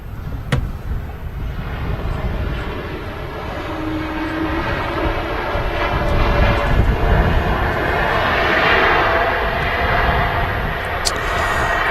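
A 2XL Aviation aircraft at Manchester Airport gives off a steady engine rumble that builds gradually louder toward the end, with a faint whine riding on top and no one talking.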